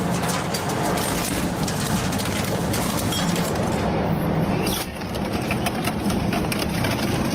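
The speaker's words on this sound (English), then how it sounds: "witnessing an engine being shredded up close is something truly spectacular" An industrial shredder tears apart a vehicle engine up close, producing a loud, continuous grinding machine roar with a brief dip partway through.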